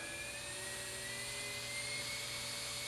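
An NSK Emax electric engraver's torque-type motor spins steadily at high RPM, giving a constant, close, high-pitched electric whine with a faint rising tone and no talking.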